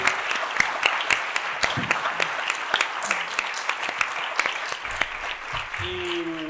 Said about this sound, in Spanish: pido un aplauso muy fuerte para ellos